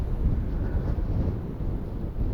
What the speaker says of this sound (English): all you're hearing is wind.